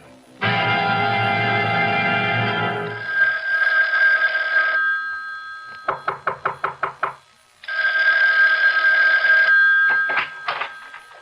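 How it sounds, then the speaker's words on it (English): An old-style telephone bell rings in a radio drama, long loud metallic trills with a rapid burst of short rings in between, then another sustained ring, close and clear with no talk over it. "Isn't that your phone I hear ringing?"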